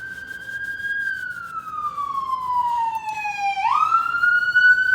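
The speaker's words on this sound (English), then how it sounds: "Your complimentary siren for the day," A police siren wails in long, slow sweeping tones, dipping gradually then rising sharply, loud and close over faint background rumble.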